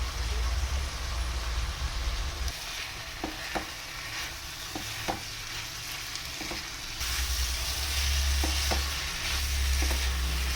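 Cooked basmati rice being stirred into a pot of frying vegetable biryani, a steady close sizzle with scraping spoon strokes against the pot, the frying noise dipping in the middle and returning louder.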